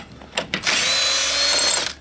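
A power tool spins the lug studs loose on the rear hub of a 1980 Ford F-350 service truck. Two quick trigger blips lead into a loud, sustained whirring rattle that lasts over a second.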